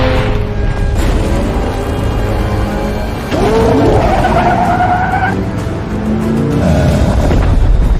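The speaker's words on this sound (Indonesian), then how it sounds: "Nora pun segera tancap gas karena troll tersebut mengejar mereka" Car speeding off in a chase from a troll in the 2022 film Troll, with loud tire squeals and skidding over engine roar, several sharp screeching bursts rising and falling across a busy, continuous action soundtrack.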